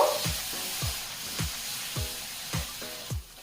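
Spices sizzling in a pan with a little water added for a vegetarian bitter gourd and potato curry, a steady hiss broken by regular scraping strokes of a spoon about every half second.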